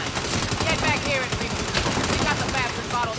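Rapid automatic gunfire and shooting effects from the Saints Row video game, dense and continuous across the whole stretch, with people talking and shouting over the game audio.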